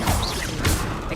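A Confringo spell impact in Hogwarts Legacy bursts as a short crashing blast followed by a second whooshing hit, loud and close within about a second.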